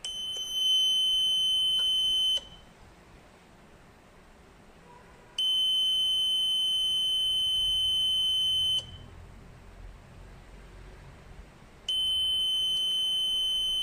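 A programmable level gauge's alarm sounds in three loud, shrill electronic buzzing bursts, each lasting a few seconds and separated by quiet gaps, close by and alone.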